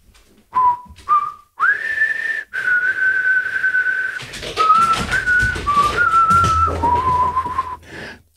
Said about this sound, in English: The man from the shadows began to whistle a merry tune.